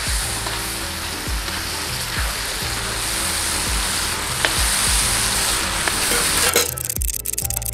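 Gado-gado peanut sauce simmers in a pan, giving a steady close bubbling sizzle with soft low thumps recurring about every half second, like stirring, and a brief clatter near the end; no one speaks.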